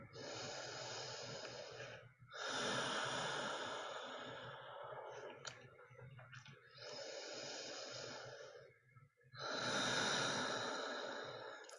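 Slow, deep breaths during a seated chair yoga session, with four long broadband inhale and exhale cycles, each lasting about two to three seconds. They are close and clearly audible, with no talking.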